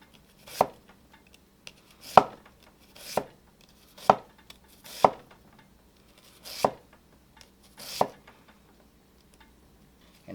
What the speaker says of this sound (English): we're just going to slice these really thin so they soften up and absorb that vinegar and salt really quick.